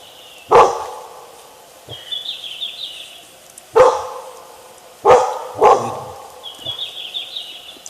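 A dog barks at a wild animal in the woods by a river, several sharp loud barks in separated bursts over a quiet background with faint birdsong.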